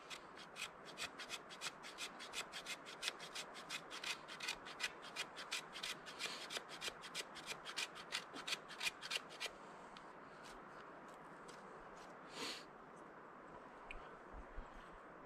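A 90-degree knife spine scrapes a small fatwood stick into fluffy shavings outdoors in a light breeze, making close, rhythmic rasping strokes in a steady run that stop partway through, leaving quieter ambience.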